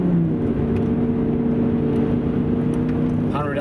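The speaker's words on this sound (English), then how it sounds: "Okay, let's merge into the autobahn. And press the accelerator." A Volkswagen Phaeton V10 accelerates onto the autobahn, a steady loud engine drone with rising tonal hum filling the cabin, continuous throughout with brief voice at the end.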